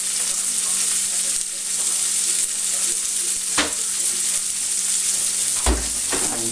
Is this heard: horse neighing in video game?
no